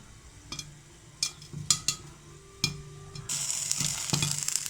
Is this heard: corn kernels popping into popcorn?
yes